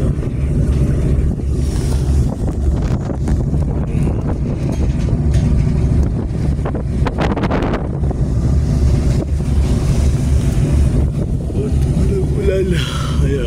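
Constant rushing wind and churning water surround a moving ship, with large waves washing behind it during a typhoon between Calapan and Batangas, and a voice speaking now and then over the roar.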